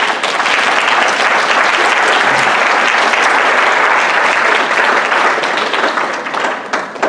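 Church congregation applauding during a sermon, steady enthusiastic clapping from a large crowd sustained for several seconds, tapering slightly at the end.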